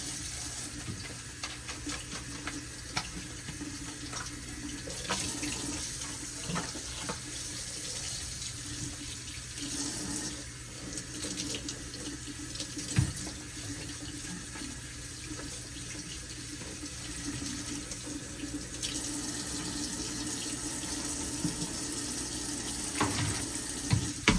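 A kitchen tap runs continuously while cabbage is washed under it, steady splashing water with small clinks and shifts, fairly close.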